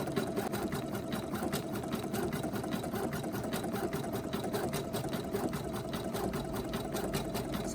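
An NQ1700e embroidery machine stitches a rivet keyfob with a rapid, steady mechanical chatter of needle strikes, close and continuous throughout.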